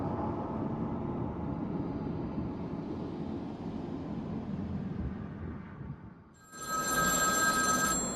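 A telephone rings in Batman: Arkham City, bright repeated bell tones entering loudly near the end after a long stretch of low rumbling ambience.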